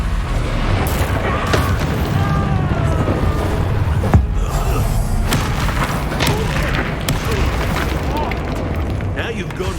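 A Bombarda explosion spell booms in Hogwarts Legacy combat, a heavy blast with a sharp thump near the middle, set within a dense, continuous wash of battle noise and magic effects while voices call out spells.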